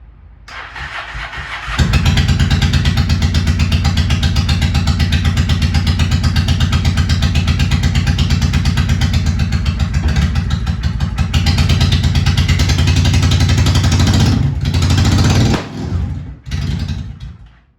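A 2001 Honda Shadow 750 ACE motorcycle starts cold: a brief crank, then a loud, steady, close idle for about thirteen seconds, which sputters and dies near the end.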